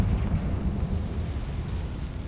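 A Confringo explosive spell goes off in Hogwarts Legacy, a deep, sustained rumbling blast that stays loud and heavy across the whole moment.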